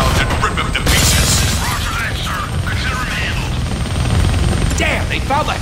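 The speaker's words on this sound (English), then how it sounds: "Damn, they found the helicopter's on switch." A helicopter in the Deadpool video game, loud rotor chopping and mechanical rattling, with talking voices layered over it.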